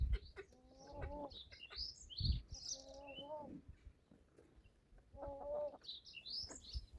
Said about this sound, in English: I'm here feeding the chicken.